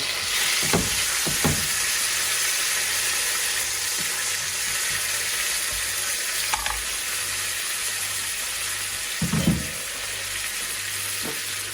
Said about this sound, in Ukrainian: І тепер закладаємо просмажити нашу спаржу.